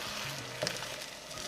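Beaten egg mixture for breakfast quesadillas sizzles steadily in a hot pan, a soft continuous frying hiss with a faint clink partway through.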